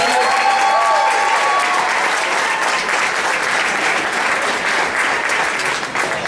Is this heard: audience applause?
yes